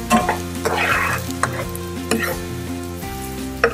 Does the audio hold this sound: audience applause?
no